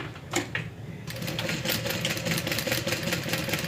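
A sewing machine back stitching a crossbody bag runs in a rapid, steady mechanical chatter, with a few short bursts at first and then continuous close stitching.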